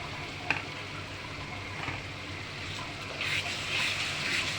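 Ginger and garlic spice paste frying for a chicken roast, a steady close sizzle with a faint clink of a spoon and a brief watery hiss toward the end.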